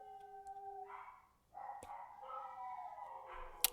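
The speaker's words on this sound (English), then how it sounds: "I apologize if you guys can hear my dogs howling in the background." Several pet dogs howl in the background in a home setting, long wavering tones that pause briefly, then rise again in overlapping howls with a sharp click near the end.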